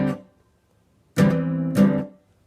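Acoustic guitar playing the hammer-on and pull-off strum pattern from a song: one ringing strum fading out, a pause, then two firm strums with a hammered note and pull-off, close and alone.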